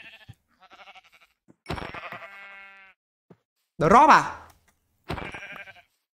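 A Minecraft sheep gives a single short, wavering bleat. Someone talks before and after it, and quieter game blips and clicks come in between.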